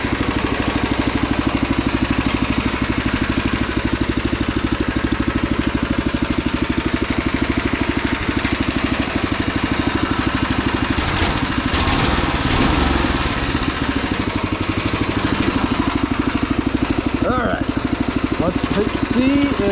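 A Wheel Horse lawn tractor fitted with a swapped-in Predator engine runs steadily and loudly close by, a continuous throbbing drone with a slight wavering midway through.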